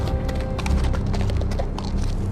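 Horse hooves clip-clop in the Telltale Game of Thrones video game, a steady walking rhythm of hard knocks set against a low rumbling backdrop, with no speech.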